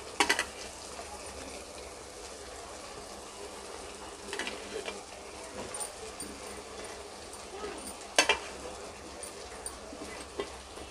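Onion, tomato and chana dal frying in a pan for a Madras vadacurry, a steady low sizzle running throughout with a few brief clatters of stirring, faint beneath a voice talking.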